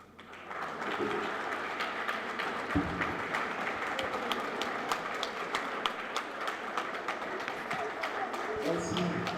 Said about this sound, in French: Qu'il plaise à tous les hommes ici présents de se mettre debout pour applaudir avec enthousiasme les femmes ici présentes avec nous.